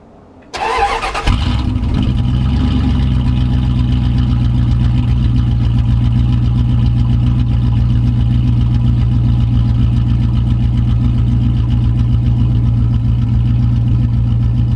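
A 1995 Dodge Ram cranks briefly and its engine catches, then settles into a loud, steady idle with a constant low hum that holds to the end.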